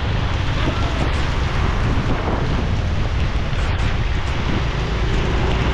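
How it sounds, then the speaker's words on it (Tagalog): Heavy rain pours down in a dense, continuous roar, with gusty wind buffeting the microphone throughout and no pause in the downpour. "Grabing ulan!"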